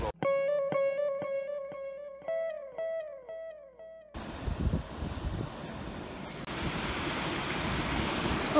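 After a few seconds of electronic musical tones, the Yuba River takes over as a continuous broadband rush of flowing water, steady and fairly close, with no voices.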